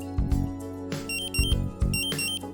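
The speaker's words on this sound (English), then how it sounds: "The A1 pre-alarm is set off as soon as the concentration exceeds the preset threshold." Dräger gas detector pre-alarm beeping in repeated short pulses with a shrill high tone over a low steady hum, close and fairly loud.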